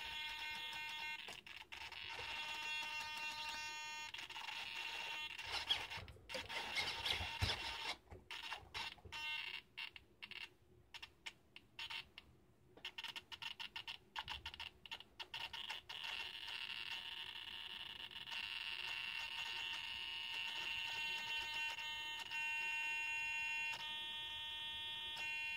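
A defective Banggood hobby servo gives a high, tonal electronic buzz that starts and stops in choppy bursts as it is touched, then settles into a steady whine, fairly faint overall.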